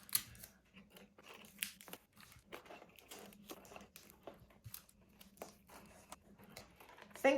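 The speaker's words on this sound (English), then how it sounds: "I will tape them in place." Tape is pulled and pressed down to hold string on the back of a shadow box, giving close crinkling, tearing and tapping sounds in short irregular bursts, with no talking.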